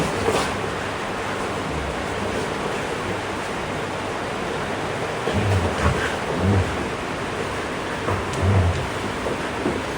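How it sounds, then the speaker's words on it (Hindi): Steady rain pours down outdoors as a dense, continuous hiss with occasional low rumbles and thuds, no voices over it. "अभी भी बारिश पड़ रही है।"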